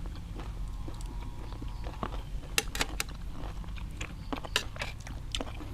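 Someone chews puffball mushrooms up close, with repeated crisp bites and wet crunching in an uneven rhythm over faint background noise.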